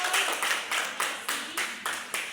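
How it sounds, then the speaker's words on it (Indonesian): A sixth-grade class claps in unison for a student group after its presentation, with quick rhythmic bursts of many hands repeating steadily and close by. "Oke, tepuk tangan untuk kelompok 1."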